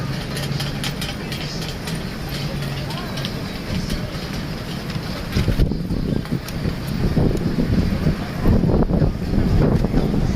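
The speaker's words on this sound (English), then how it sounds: "It's so windy tonight and it's cold." Strong, cold night wind in Las Vegas buffets and rumbles steadily across the microphone, growing gustier partway through, with faint voices underneath.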